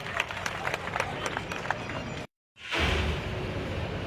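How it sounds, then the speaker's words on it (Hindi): A crowd at a public event with the Lieutenant Governor breaks into applause, a dense burst of clapping that starts after a short gap and stays loud through the rest. "जोरदार तालियां हो जाएं"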